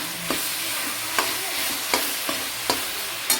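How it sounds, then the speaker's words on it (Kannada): Tomatoes frying with ginger garlic paste in a pan for a brinjal curry, a steady close sizzle broken by about six sharp scraping stirs of a spoon at roughly even intervals. "ಇವಾಗ ಟೊಮೆಟೊ ಹಾಕಿದ್ದೀನಿ. ಚೆನ್ನಾಗಿ ಟೊಮೆಟೊ ಫ್ರೈ ಆಗಿ"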